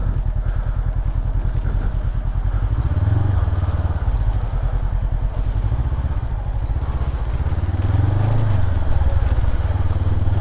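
Honda CB500X motorcycle cruising on a motorway, a loud, close, steady engine drone with a pulsing low rumble and wind buffeting, rising slightly in pitch at moments.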